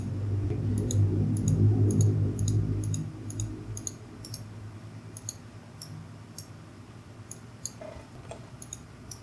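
A computer mouse clicks repeatedly while someone works in Rhino3D software, giving a steady run of sharp, faint, close clicks over low room hum with no talk.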